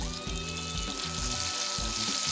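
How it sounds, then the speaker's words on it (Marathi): Garlic-coriander paste frying in hot oil with crackling mustard seeds and cumin in a heated wok, a continuous close sizzle with intermittent stirring scrapes and no talk. "हे तडतडले की लसूण कोथिंबीरीचे वाटण घालू।"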